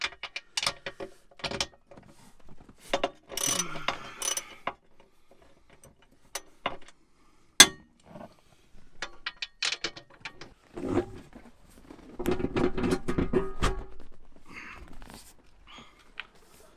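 Wrench working bolts loose beneath a VW T4 van seat, irregular close ratcheting clicks and metallic creaks in scattered bursts with a sharp knock partway through.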